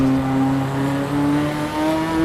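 A race car engine in Assetto Corsa Evo holds a loud, steady, high-pitched rev in third gear, its tone slowly rising, close and alone with no talk.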